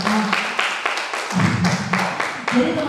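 An audience claps for two presenters at a seminar session, a short burst of steady applause under and between a speaker's voice, moderately loud and close.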